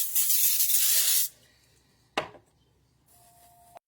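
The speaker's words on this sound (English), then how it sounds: "spray the bottom of your pan before putting the crust in" Cooking spray hisses loudly in one long close burst onto the bottom of a glass pan, followed by a sharp clunk and faint rustling.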